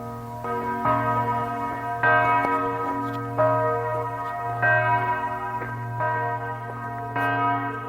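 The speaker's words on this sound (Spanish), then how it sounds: "Así suena una campana repicando desde el campo de concentración de Dachau." Church bell ringing at the Dachau concentration camp in Bavaria, clear repeated tolling strokes about once a second over a steady low hum, with no voices.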